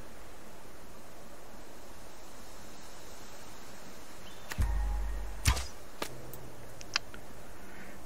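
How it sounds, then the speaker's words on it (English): Arrows shot from a bow in the survival video game Subsistence, two or three sharp releases with short twangy thuds, spaced about a second apart, over a steady rushing outdoor wind or water ambience. "I wonder how many shots with this arrow would it take kill that wolf"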